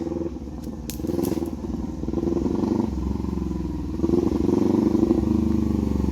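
A motorcycle with straight pipe exhaust idles and burbles loudly up close with only light throttle, its low rumbling note swelling slightly toward the end with a faint rattling clatter.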